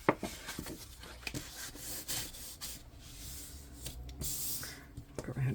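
A scored paper fold is burnished flat, producing soft dry rubbing strokes in short bursts, close and fairly quiet, with a faint voice in the background.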